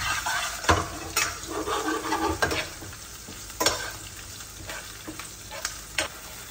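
Garlic browning in hot oil with dried red chilies, curry leaves and green chilies, stirred in a pan for Andhra ladyfinger fry: close crackling sizzle broken by several sharp scraping spoon strokes, no talk.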